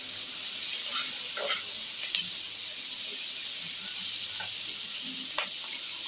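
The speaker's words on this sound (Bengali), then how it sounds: "খুব ভালো করে নাড়াচাড়া করে নিচ্ছি" Soya chili seasoned with ground pepper sizzles steadily in a frying pan as it is stirred, a continuous close hiss broken by a few light scrapes.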